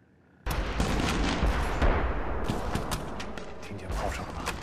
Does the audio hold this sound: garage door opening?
no